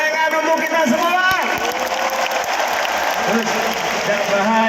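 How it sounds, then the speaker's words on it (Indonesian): Dense crowd applause and cheering fill a large stadium at a final presidential campaign rally in Jakarta, a loud continuous roar with a brief whistle-like tone early on. "tepuk tangan untuk kita semua"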